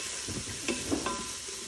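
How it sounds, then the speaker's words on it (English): Fennel and onion sautéing in a soup pot, giving a soft steady sizzle with a few brief scrapes of the stirring utensil, quiet and close, with no voices. "we're supposed to saute and cook and stir about 6 minutes or until tender"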